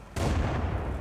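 A 37mm gun on a Swedish tier 1-3 tank destroyer fires in World of Tanks: one sudden loud blast that holds as a dense, rumbling roar for about a second.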